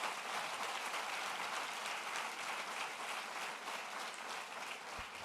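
A crowd claps for faculty advisors and facilitators at a live event, a steady, fairly faint applause that continues evenly throughout without talk.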